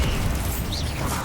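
A Bombarda blasting spell explodes in Hogwarts Legacy, a dense, loud, continuous blast of roaring noise that fills the whole moment with no pause.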